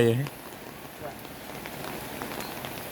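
Rain falls steadily outdoors as an even, soft hiss of drops, after a brief voice at the very start.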